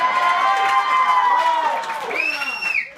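Comedy club crowd at a fundraiser show cheering and whooping loudly, a dense sustained roar with scattered high shouts rising near the end.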